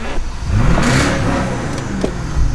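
A straight-piped, tuned BMW 650i with the N63TU twin-turbo V8 revs up loudly nearby, swelling into a raspy surge and then easing off, followed by shorter throttle blips.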